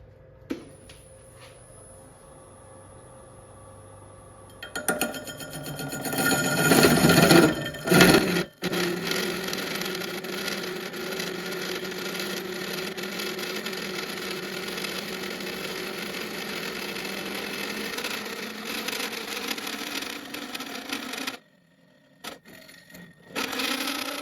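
A wood bowl being cored on a lathe with a Bowl Saver Max4 gives a steady whirring hum, then a loud grinding, scraping cut that holds for many seconds, drops out briefly near the end and resumes, with no voices.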